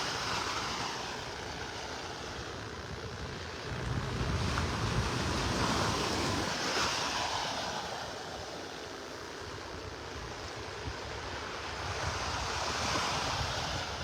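Surf rolling onto a beach in North Naples, Florida, with steady wash and swelling breakers under light wind noise while someone walks along the shore; no talk.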